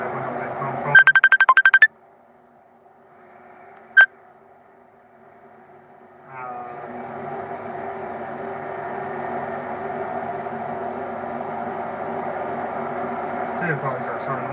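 A phone ringtone trills in a short burst of rapid electronic chirps, followed by a single brief beep, then a steady engine-like drone rises and continues to the end.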